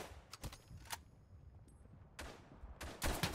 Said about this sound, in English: Oh shit, I'm getting shot at.